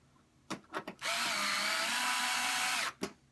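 A cordless battery screwdriver whirs steadily for about two seconds, driving screws into a 32-inch Samsung UN32EH4003 LCD panel. A few short clicks and bursts of handling come before the run and another follows it, close and loud.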